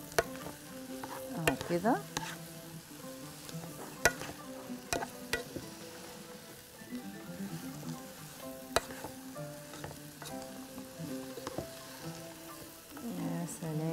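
Mixed vegetables including colored bell peppers sauté in a pan, a steady sizzle running under repeated scraping stirs and light clinks of the utensil, with someone speaking briefly.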